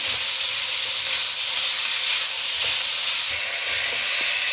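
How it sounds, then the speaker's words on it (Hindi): Hand-minced chicken frying with garlic and ginger for a samosa filling gives off a loud, continuous, close hiss and sizzle that stays steady throughout. "अब थोड़ा सा चिकन इसके अंदर भून लें ताकि इसका कलर चेंज हो जाए।"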